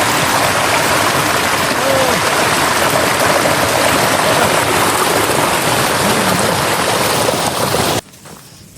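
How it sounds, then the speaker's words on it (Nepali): A natural village water stream flowing near Kawajit and Bayapani, a loud, steady rushing wash of water that runs unbroken for about eight seconds and then abruptly drops away. "गाउँको नेचुरल पानी"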